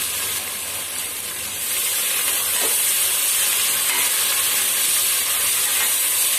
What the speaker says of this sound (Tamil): வெங்காயத்தை போட்டுக்கலாம்